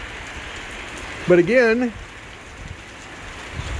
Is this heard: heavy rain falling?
yes